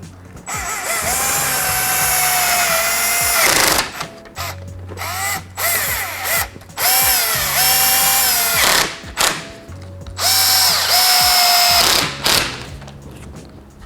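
A power drill runs on the grille bolts of a 4th-gen Ram 1500 pickup. It gives loud, close bursts of whining motor with rising and falling pitch, about three long runs broken by short pauses and clicks.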